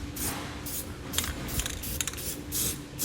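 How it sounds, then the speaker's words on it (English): Short hissing bursts of spray paint hit the frame of a 2012 Ram 2500 pickup to stop rust, several quick sprays of varying length against quiet background. "not a bad idea to hit it with a little spray paint to stop that rust."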